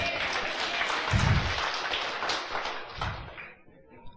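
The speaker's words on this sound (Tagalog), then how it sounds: "Palakpak." A church congregation claps during a sermon, a dense round of applause with a few heavier thuds, which fades out toward the end.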